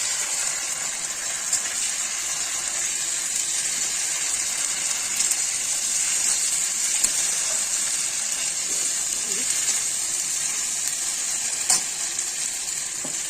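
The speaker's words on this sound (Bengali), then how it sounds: "এখন পেঁয়াজের সাথে মশলাটা সুন্দরভাবে কষে নেব।" Spices sizzle steadily with onions in a hot pan for a Bengali piyali fish curry, a continuous bright frying hiss with occasional stirring scrapes throughout.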